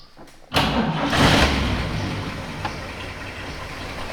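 A 1941 Chevy engine with no accelerator pump cranks cold for a moment, catches with a loud burst, then settles into a steady, rough running idle close by, with no talk over it.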